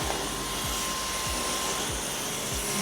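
A cordless stick vacuum cleaner runs continuously in an apartment with a steady loud whirring hiss and a thin motor whine, with faint periodic thumps underneath as it moves.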